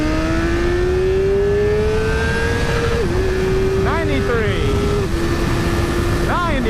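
A 2012 BMW S1000RR motorcycle screams as it accelerates hard in first gear, its engine note climbing steadily with brief dips at shifts or throttle changes, loud and close throughout with faint wind noise.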